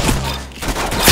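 Gunfire in Roblox Arsenal, a short burst of close, loud shots with punchy thuds at the start and again near the end, no talk over it.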